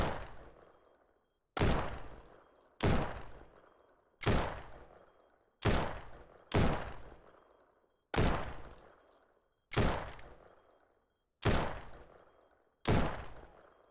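Single gunshots ring out one at a time in the video game No One Survived at a bandit camp, about ten sharp loud reports with ringing decays, spaced roughly a second or so apart, with no talking.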